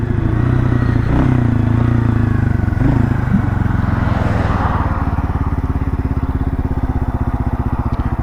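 A 1978 Kawasaki KL250 motorcycle rides along just after a new carburetor was fitted, its single-cylinder engine thumping in a fast, even pulse, loud and close, with some clatter and wind noise and the beat easing slightly toward the end.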